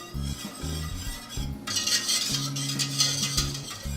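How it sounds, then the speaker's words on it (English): Whisk scraping and clinking around a pot of thickening milk mixture, steady rhythmic strokes close by with metallic taps, growing louder and brighter midway. "this will whisk completely smooth and you won't have lumps"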